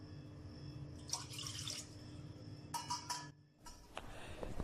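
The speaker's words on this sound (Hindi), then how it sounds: "तो इसमें 2 कप हमने पानी के डाल दिए हैं।" Two cups of water poured into a pot for saffron tea: a splashing, trickling stream that comes in uneven bursts, close up over a steady low background hum, with a brief quieter gap before the pouring resumes.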